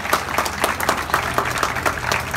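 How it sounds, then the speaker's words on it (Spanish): Students at a gathering clap in crisp, separate bursts, close and fairly loud, with a loose rhythm of distinct hand claps rather than a dense roar. "Vamos a dar un aplauso para que se anime el alcalde, los concesionarios."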